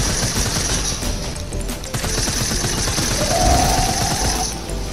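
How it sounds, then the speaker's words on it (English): SMG fire in a video game, heard as a continuous, dense rattle of rapid shots that stays loud and unbroken from start to finish, mixed into busy game sound with no talking. "I was trying to use my SMG."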